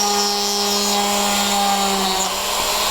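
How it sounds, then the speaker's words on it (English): A small bead-making drill bores through a stone, giving a steady high whine with a strong tonal hum that dips slightly near the end, close and loud with no talking. "Drill all the way through and pull it all the way back."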